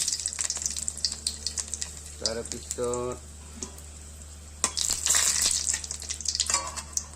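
Whole cumin seeds and dried red chilies sizzle in hot oil, giving a bright, crackling frying hiss that flares up loudly near the end. Brief tonal clatter sounds in the middle, and a voice comes in faintly.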